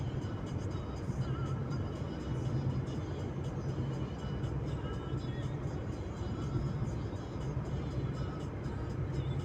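Steady low road rumble and tyre noise from a car travelling a straight, snow-cleared winter highway past a town bypass, continuous and close with no gaps.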